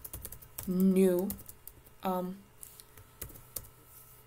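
Rapid clicking keystrokes on a computer keyboard while C code is typed, close and continuous, with someone talking briefly over the tapping.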